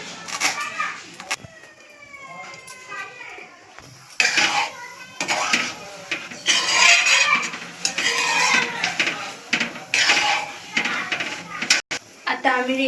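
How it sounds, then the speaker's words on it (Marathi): A knife chops fresh coriander finely on a board in a home kitchen while making pav bhaji, with clustered clicking and tapping strokes coming in bursts. Children's voices are heard nearby. "आता आपण बारीक अशी कोथिंबीर कापून घेऊया."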